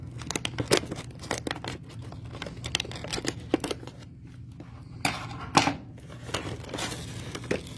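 Packaging for a small Smart Lab tiny gardening kit being torn open and crinkled by hand, with irregular bursts of ripping, rustling and crackling, close and moderately loud, and short quieter gaps between them.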